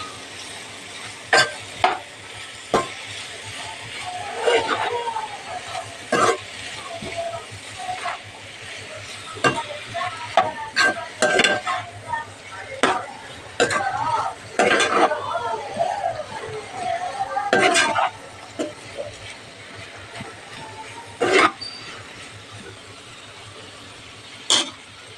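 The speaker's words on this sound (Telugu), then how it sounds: "వీటినన్నిటిని బాగా కలపండి." Cluster beans with garam masala are stirred in a pan, giving scattered sharp scraping clicks over a soft background sizzle while someone talks intermittently nearby.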